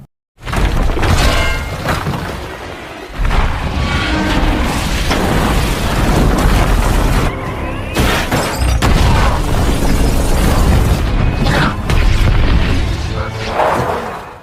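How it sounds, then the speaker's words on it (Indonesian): A gas pipe explosion set off by hot lava in a disaster film, a loud, sustained roaring blast with shattering debris and repeated heavy bursts that fill the whole stretch without pause. "itu karena akibat lahar panas bumi yang meledakkan pipa gas di dalamnya"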